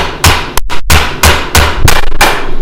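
A hammer strikes a hammering block to texture a Converse sneaker, a series of about six loud, sharp metallic blows spaced roughly half a second apart, close and alone.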